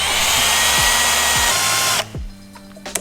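A power drill runs steadily as its bit bores through a homemade centering guide, a loud continuous whine that cuts off suddenly, followed by a few faint clicks and knocks.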